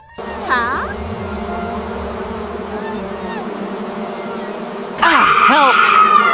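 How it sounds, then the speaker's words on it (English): Bees buzzing in a cartoon-style scene, a steady insect drone throughout that swells louder near the end, with brief squeaky voice-like sounds over it. "Help! Bees!"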